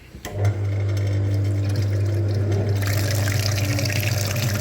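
Water gushes steadily through a car heater radiator being flushed, a loud continuous rush over a low pump hum that grows brighter and splashier toward the end.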